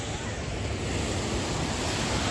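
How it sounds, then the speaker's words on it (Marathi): Sea waves foam over the rocks at Gokarna beach, making a steady, loud, broadband wash that stays constant throughout with no voices. "पाणी फेसाळतं इकडं"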